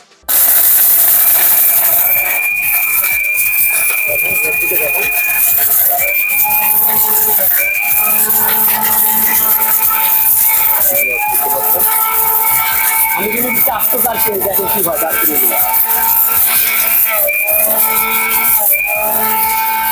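A powerful electric blender runs at full speed with its lid on, a loud, continuous motor whine with a high pitch that shifts and wavers, starting abruptly and droning on steadily, with some talk underneath.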